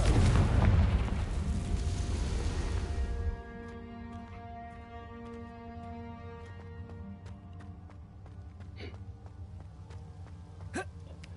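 A Confringo fire spell in Hogwarts Legacy bursts with a loud, deep booming explosion at the start, then fades into quieter game ambience with soft tones and a couple of faint sharp clicks.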